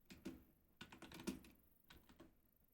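Quiet typing on a computer keyboard, a few quick bursts of keystrokes with short pauses between them, close by and faint.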